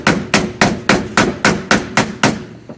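A hammer strikes sheet metal while a car fender is being shaped, nine sharp, evenly spaced blows about a third of a second apart, each ringing briefly, with a softer final tap.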